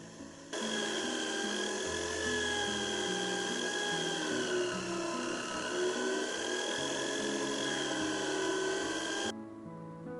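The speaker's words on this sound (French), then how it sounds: "pâte à polir bleue qui me sort une finition fine" A forged knife made from railway rail is buffed with blue polishing compound on a power polisher, giving a steady high motor whine with a shifting tone, constant for about nine seconds before it cuts off.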